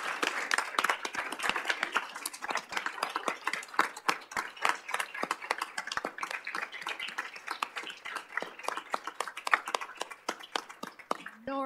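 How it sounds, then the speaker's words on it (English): Applause from the audience in the council chamber at a Goodyear City Council meeting, a steady wash of many hands clapping with sharp individual claps throughout, sustained and fairly close. "we're going to give her a round of applause"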